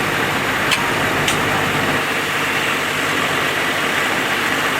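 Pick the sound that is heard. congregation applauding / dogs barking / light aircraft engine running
light aircraft engine running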